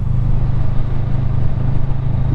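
Honda CMX500 motorcycle engine running steadily while riding, a loud, continuous low drone with constant wind rush and no obvious revving across a couple of seconds.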